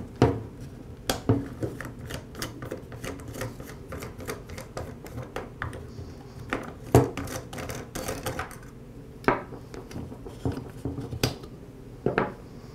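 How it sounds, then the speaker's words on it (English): Bump head knob and spool being taken off a Ryobi string trimmer, a run of sharp plastic clicks, knocks and rattles at an irregular pace, close and distinct, with no talk. "I'll begin by removing the bump head knob and the spool."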